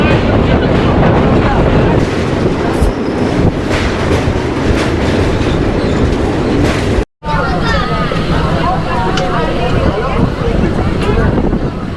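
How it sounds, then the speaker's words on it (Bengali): An Indian fast passenger train rolls steadily along the rails on the Howrah–Digha line near Mecheda station, recorded on board, with a continuous loud rumble and rattle, wind buffeting the microphone, broken by a brief dropout midway. "3 মিনিট দেরিতে মেছেদা স্টেশনে ঢুকলো আমাদের এই ট্রেন"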